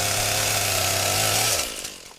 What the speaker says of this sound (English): Using hand tools and chainsaws, work crews are thinning and cutting what fires once removed